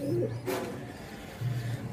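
Pigeons coo softly nearby in a few low, throaty phrases separated by short pauses, with a faint bird chirp in the background.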